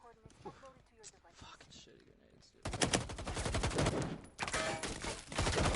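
Grenade blasts and bursts of gunfire in a competitive multiplayer shooter match, starting sparse under excited commentary, then erupting into loud, sustained rapid automatic fire with overlapping shots and a brief lull before resuming.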